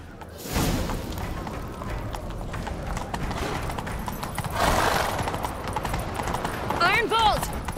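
Hooves clip-clop rapidly as a horse gallops in The Witcher 3, over a noisy outdoor backdrop with voices talking, and a horse whinnies near the end.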